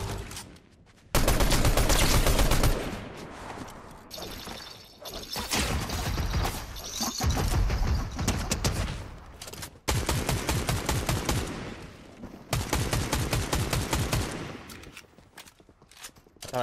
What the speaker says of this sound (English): I was using the SMG, that's fine.